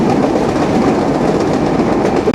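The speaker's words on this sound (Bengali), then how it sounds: "কপোতাক্ষ এক্সপ্রেস ট্রেনটি প্রবেশ করছে ঝিনাইদহ জেলার কোটচাঁদপুর রেলওয়ে স্টেশনে" The Kapotaksha Express, running Khulna to Rajshahi, rolls into Kotchandpur railway station in Jhenaidah district with a loud, close, steady rush of wheels and rattling carriages.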